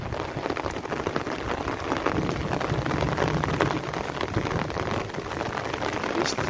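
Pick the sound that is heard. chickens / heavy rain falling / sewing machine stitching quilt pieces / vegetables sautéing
heavy rain falling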